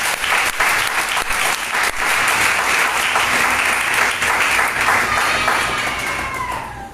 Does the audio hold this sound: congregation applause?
yes